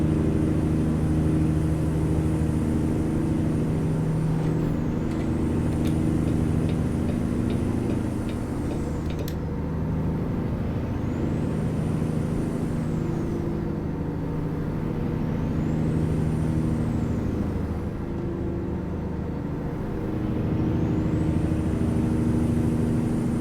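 A heavy truck engine in American Truck Simulator drones steadily on the highway, its pitch slowly sliding down and back up as speed changes. The sound is loud and continuous with no voices.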